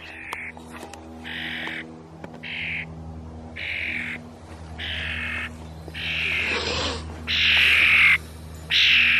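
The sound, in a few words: pet bird calling from the roof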